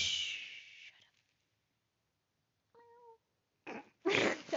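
A person imitates a cat with a short, tonal meow in an otherwise quiet room, set between bursts of noisy breathy sounds before and after.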